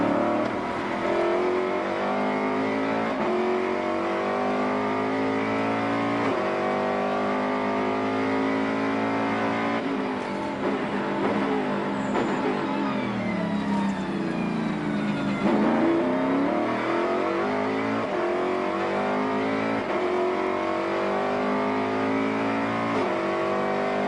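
Onboard a Grand-Am race car lapping Circuit Gilles Villeneuve in Montreal, the engine roars loud and constant, rising and falling through gear changes, braking and acceleration across the lap, with no voices.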